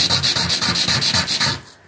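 A ceramic tile's rough cut edges are sanded for a decorative mosaic, with steady, rapid back-and-forth rasping strokes, loud and close, about a dozen even passes before it fades out.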